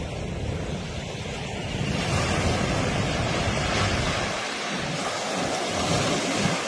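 Ocean surf washing onto the sandy shore at Mahabalipuram, a steady broad wash of breaking waves with wind noise, swelling slightly midway, no voices.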